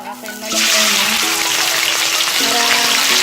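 Chicken pieces drop into hot oil for a Filipino-style chicken curry, bursting into a loud, steady, close sizzle of frying that holds throughout, with faint tonal sounds at the start.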